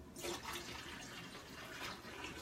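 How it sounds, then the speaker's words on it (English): Water pours steadily into a water filter tank, a soft continuous splashing and gurgling heard fairly close and quiet. "So I'm just going to pour some water into the tank in the back."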